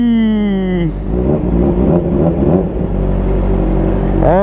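A Kawasaki ZX4RR motorcycle with a torque upgrade and short muffler revs hard, a rising whine that drops off, then a loud rumbling idle with throttle blips before climbing again, close and loud with no talk.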